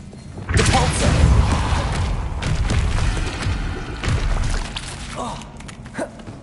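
A heavy booming magical spell impact in Hogwarts Legacy, a deep thudding blast that swells and lingers, followed by fainter rumbles and a small closing thump.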